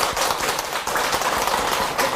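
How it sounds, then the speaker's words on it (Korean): An audience at a Buddhist dharma talk in a Korean Seon meditation hall claps together in a short, dense burst of applause, loud and close, lasting about two seconds without speech. "말씀을 하신 분을 향해서 우리가 박수를 보내드립니다"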